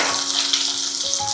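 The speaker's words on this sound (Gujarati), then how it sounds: "તરત નાખી દઈએ લીલી મરચી." Green chilies tossed into a hot mustard seed and cumin tempering, giving a loud, close, unbroken sizzling hiss with no voices.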